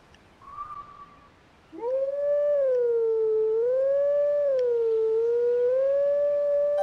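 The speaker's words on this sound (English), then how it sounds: "I haven't had to howl in a while, so I guess I was down on my howling mechanics" Wolf Link howling in The Legend of Zelda: Twilight Princess, a brief high call followed by one long, loud, sustained wavering howl that bends up and down in pitch, alone with no talk.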